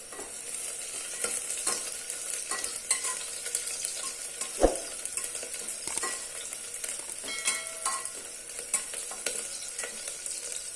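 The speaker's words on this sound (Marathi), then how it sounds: "लगेच आपण दोन तीन हिरव्या मिरच्या सुद्धा चिरलेल्या याच्यामध्ये टाकणार आहोत त्या सुद्धा याबरोबर परतून निघत" Onions with chopped green chillies sautéing in a pan for mutton biryani, a steady low sizzle broken by frequent stirring scrapes and one sharp utensil clink, close and fairly quiet, without speech.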